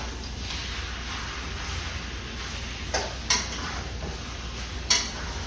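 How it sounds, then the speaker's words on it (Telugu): Potato masala with ginger-garlic paste and sambar chili powder frying in a pan, a steady close sizzle with a few sharp scrapes of a spoon against the pan as it is stirred. "ఇది కొంచెంసేపు అలా వేపుకుందాం."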